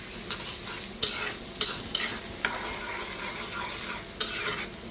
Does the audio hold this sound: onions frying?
yes